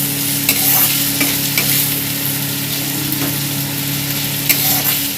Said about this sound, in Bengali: দেখুন আমি পেঁয়াজ কোচানোটাও দিয়ে দিয়েছি। দিয়ে একটু ভালো করে নেড়ে নেবো আমি লাল লাল করে।